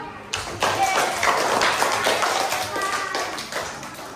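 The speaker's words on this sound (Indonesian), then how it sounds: "Oke, beri tepuk tangan." A classroom group of children and adults in a coding lesson claps hands together, a bright burst starting abruptly and continuing as uneven patting and tapping with voices talking over it.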